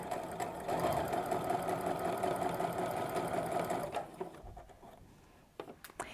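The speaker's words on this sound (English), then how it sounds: "here I am just stitching down" A sewing machine stitches a quilt block seam for a Sawtooth Star and Log Cabin quilt, running in a steady close buzzing whir for about four seconds before stopping, followed by a few light handling taps.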